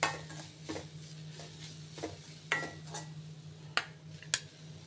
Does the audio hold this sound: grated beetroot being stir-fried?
yes